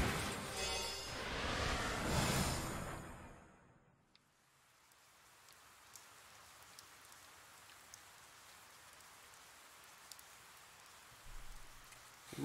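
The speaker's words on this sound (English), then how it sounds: "The rain won't let up." Rain falls in the video game 428: Shibuya Scramble, a loud, dense hiss at first that drops away to a faint, steady patter with occasional drop ticks.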